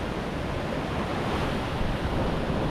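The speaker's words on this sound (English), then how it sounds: "you got waves coming around both sides of the island" Ocean surf washes around an island shore on Oahu, Hawaii, as a dense, steady roar of breaking waves heard up close, with wind buffeting the microphone throughout.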